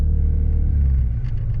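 A truck rolls through city traffic, its engine a steady loud low rumble heard from inside the cab, swelling slightly toward the end, with no talking.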